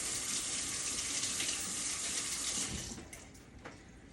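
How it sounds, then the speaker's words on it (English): Tap water runs in a steady, close rush while hands are washed during home baking of an apple pie on a wood stove, then cuts off after about three seconds, leaving faint drips and handling noises. "Wash your hands off real quick."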